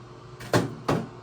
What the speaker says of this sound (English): I usually leave this door open like this.